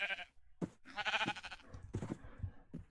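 Sheep in Minecraft bleat several times in a row, close and clear, each a quavering baa over a quiet background.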